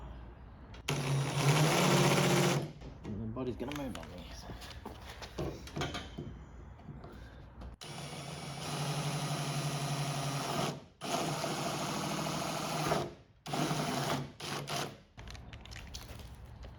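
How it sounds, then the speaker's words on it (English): A step drill on a 90-degree angle head whines in long bursts with short pauses between, close and loud, with a brief spoken remark partway through. "So I've got a little step drill and a 90-degree head. I'm just going to drill them out."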